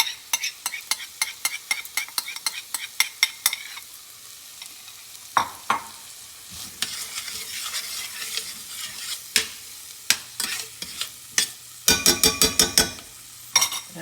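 Sausages sizzle in a frying pan for huevos rancheros, with a steady crackling fry underneath and rapid clinks of a utensil stirring against the pan at the start and again near the end.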